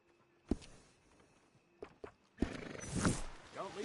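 A horse in a PS4 video game whinnies loudly after a few soft thumps and hoof sounds, the neigh rising and trailing off near the end.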